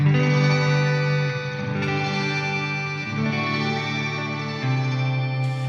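A Strymon reverb pedal's shimmer effect, with high damping taming the highs, turns sustained guitar chords into lush, octave-rich washes that swell and overlap, changing pitch a few times with long, shimmering tails.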